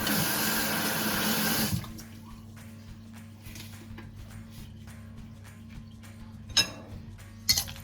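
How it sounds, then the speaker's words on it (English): Tap water runs steadily into a sink while hands are washed in a home kitchen during cooking of brown stew chicken, the flow stopping after about two seconds and leaving quiet room tone with a couple of soft knocks. "Let me wash my hands."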